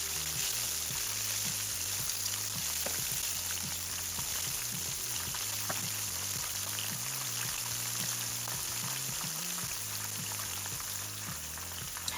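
Gluten-free shrimp tempura frying in hot oil, a continuous crackling sizzle with dense popping bubbles, steady and close throughout.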